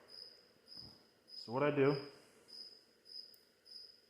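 Crickets chirp in late-season background in short, regular, faint chirps that repeat about once every half second, while someone speaks briefly over them.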